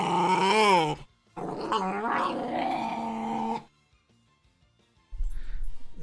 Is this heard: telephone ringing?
no